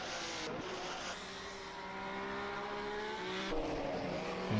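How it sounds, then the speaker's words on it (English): A 1967 Cooper Formula One car in a racing game at Clermont-Ferrand in France revs hard. The engine note climbs in rising sweeps, broken by brief gear-change dips, loud and close with no talk. "We've got some engine sounds for you. You can actually hear what's going on now. So the lovely sound of this Cooper"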